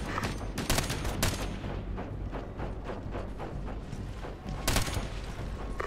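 Dense gunfire in Ghost Recon Advanced Warfighter 2, with rapid cracking shots and automatic bursts clustered near the start and near the end, loud and continuous over a noisy battlefield background.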